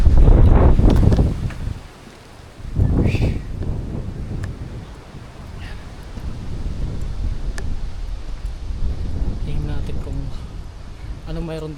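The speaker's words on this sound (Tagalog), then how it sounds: "Lakas ng hangin." Strong wind at the hilltop summit of the Alto de Coloane trail in Macau gusts hard against the microphone, with loud roaring bursts easing into a steady rush while someone talks over it.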